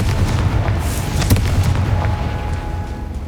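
A loud, sustained booming blast from the Confringo fire spell in the game Hogwarts Legacy, rumbling heavily with crackling bursts layered on top.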